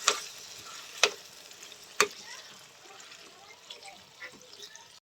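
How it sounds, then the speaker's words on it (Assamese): Taro greens are stirred as they fry in a pan, a low steady sizzle punctuated by three sharp utensil knocks a second apart, then quieter scraping. "শাকখিনি ইয়াত দি দিম ধুনীয়াকৈ। লৰাই দিম ধুনীয়াকৈ।"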